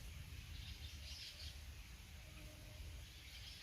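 Birds call and chirp faintly from a balete tree against a steady hiss of outdoor background noise, with no talking.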